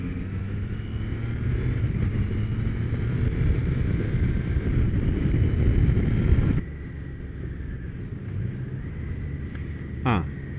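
A Triumph Tiger Sport 660 motorcycle is being ridden. Its engine is a low, steady drone under heavy wind rush. The noise eases partway through and continues more quietly to the end.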